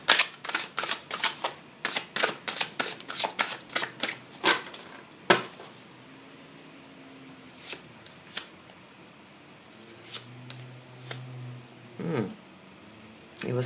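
Tarot cards are shuffled by hand in a quick run of crisp riffling bursts, followed by sparse single card snaps and a soft slide near the end, close and fairly quiet.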